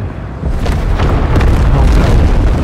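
Artillery fire in Empire: Total War with the Empire 2 mod, heard as a loud, dense rumbling boom of cannon blasts filling the whole moment, close and without talk.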